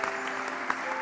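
Studio audience applause on an Indonesian late-night sahur TV show, a steady wash of clapping that stays fairly even and moderately loud for the whole second.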